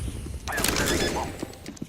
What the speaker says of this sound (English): I am setting bomb.